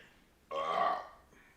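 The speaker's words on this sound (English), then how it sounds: "we got like the meat with the margarita burp" A single loud, drawn-out burp after a meal of meat and a margarita, rising abruptly and lasting about half a second before fading into quiet.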